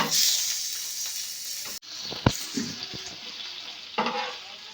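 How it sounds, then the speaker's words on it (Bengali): Egg rolls frying in a pan, a soft steady sizzle with a few sharp knocks and scrapes of a utensil against the pan, close and fairly quiet, no voices. "এই রকমইভাবে আমি একই রকম সবগুলো ভেজে নেব"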